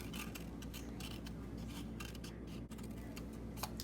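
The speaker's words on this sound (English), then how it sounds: "poke my scissors through and cut that circle right in the inside" Scissors snipping through paper to cut out a circle for a craft project, a steady run of soft, close crisp cuts with no talk.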